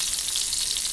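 Chopped onion frying in hot oil, a loud, dense, continuous sizzle close up with no talking.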